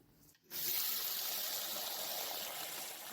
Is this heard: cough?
no